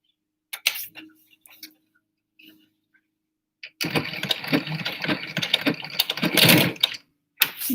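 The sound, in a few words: regular sewing machine stitching a face mask seam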